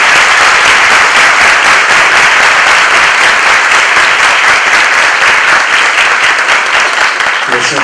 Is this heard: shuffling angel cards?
no